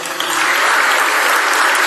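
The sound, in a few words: congregation applauding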